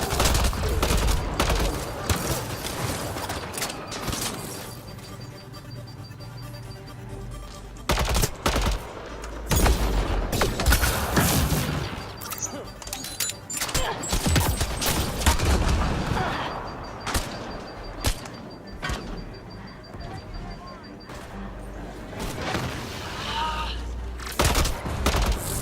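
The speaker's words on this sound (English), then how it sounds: "Неплохо так стреляют" Dense video game gunfire in Mass Effect Andromeda, loud bursts of rapid weapon fire and heavy impacts in repeated volleys with brief lulls, with talk occasionally audible beneath the shooting.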